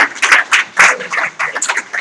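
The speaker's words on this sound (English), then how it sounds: "Shall we give him a round of applause?" Applause at a public conversation for an introduced member of the African Association for Political Science: short bursts of clapping, moderately loud, with a faint voice underneath.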